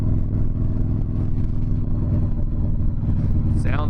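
A 95th Anniversary Edition Harley-Davidson Softail Fat Boy motorcycle engine runs close by with a steady, deep, throbbing rumble that holds even throughout.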